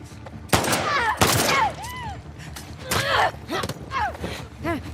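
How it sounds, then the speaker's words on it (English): A very big shotgun fires repeatedly in a video game, with several heavy booming blasts spaced irregularly alongside mechanical reloading clicks and creaks. "That is a very big shotgun."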